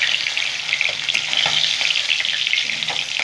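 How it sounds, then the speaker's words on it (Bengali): Boroli fish fry in hot oil in a pan, a dense, continuous close sizzle with faint clinks and taps scattered through it, and no one speaking. "এরকম করে বন্ধুরা আমি লাল লাল করে সব মাছগুলো ভেজে নেবো উল্টো পাল্টে"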